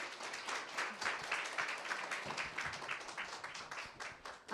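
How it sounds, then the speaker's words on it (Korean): An audience applauds to welcome a speaker at a seminar, a moderate wash of clapping from many hands, fairly faint and uneven in strength. "성정아님 모실 때 큰 박수 부탁드립니다"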